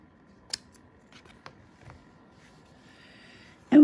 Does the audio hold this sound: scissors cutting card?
yes